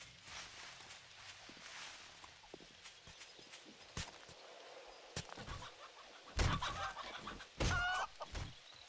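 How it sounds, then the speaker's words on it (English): Chicken clucking in the video game 7 Days to Die, a series of short clucks and scattered clip-clop-like thuds through the game soundscape, with louder bursts near the end. "That's chicken? Chicken."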